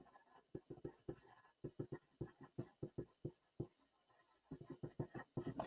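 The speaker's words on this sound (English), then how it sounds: "I'm gonna draw directly on the graph paper" A pencil sketches on graph paper in quick bursts of scratchy strokes, close and fairly quiet, with short pauses between clusters.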